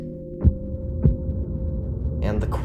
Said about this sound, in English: When you first boot up Tears of the Kingdom, what was the first thing that you heard? That's right, the ominous heartbeat